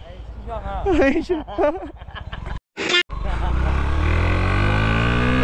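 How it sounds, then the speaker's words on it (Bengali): A modified Yamaha FZS V3 (150cc BS4) motorcycle fitted with an aftermarket exhaust and racing coil roars loudly and steadily up close after a brief cut, following a stretch of excited talking voices. "এই বাইকটাতে এক্সজস্ট লাগানো আছে"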